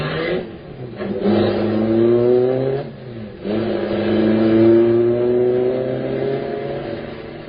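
Getaway car in an old-time radio crime drama revving hard and speeding off, two rising engine surges with a brief gear-change dip between, loud and close with no speech.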